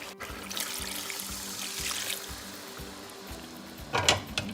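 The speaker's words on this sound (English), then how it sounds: "Mixing all that and add in the water." Water poured into a pot of beef stew with meat and vegetables, a steady close trickling and splashing that swells briefly near the end.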